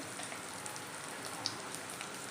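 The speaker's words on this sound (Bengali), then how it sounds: "তেলটা গরম হয়ে গেছে এইবারে কিন্তু আমি দিয়ে দেবো সর্ষে আর গোটা লঙ্কা ফোড়ন" Mustard seeds and whole dried chilies tempering in hot oil, a soft, steady crackling hiss with a few sharper pops.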